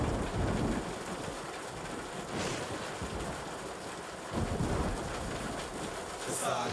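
Rain falls outdoors in a steady broadband hiss and patter that is fairly quiet and continuous, with slight surges and some wind-like rumble mixed in.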